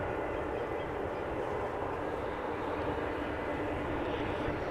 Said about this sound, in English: 737 from KLM arriving for Paris Charles de Gaulle.